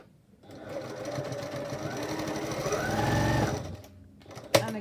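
A sewing machine stitching through the folded corner of a fabric face mask, one steady whirring run of a few seconds that rises slightly in pitch, then stops with a soft clunk.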